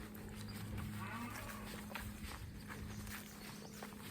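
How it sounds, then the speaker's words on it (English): A cow moos loudly on a farm near a greenhouse, with a sustained low bellow over a constant mower-like hum that carries through the whole clip. "Much to the dismay of our screaming cow, who thinks that whatever I'm mowing is for her."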